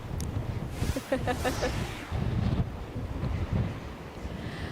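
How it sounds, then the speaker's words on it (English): Heavy wind roars across the microphone outdoors at Spring Point Ledge Lighthouse, South Portland, Maine, during a severe storm, with a hiss like heavy rain, while a voice speaks briefly early on. "It is very rainy and very windy."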